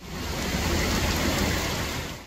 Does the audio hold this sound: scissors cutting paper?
no